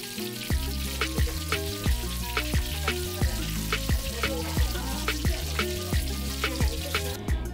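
Whole hilsa fish frying in hot oil, giving a continuous loud sizzle and crackle with a steady run of spitting pops close by, and no talk over it.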